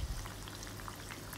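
Aartya snacks deep-frying in hot oil, a steady soft sizzle and bubbling that runs evenly throughout at low volume with no speech.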